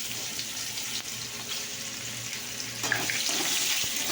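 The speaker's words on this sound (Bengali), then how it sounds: "সেটাতে একটু পেঁয়াজটা ভাজা হচ্ছে" Onions frying in a pan with chilli, a steady broadband sizzle and hiss running throughout, close and continuous, with a low hum beneath and a slight rise in intensity near the end; no talking.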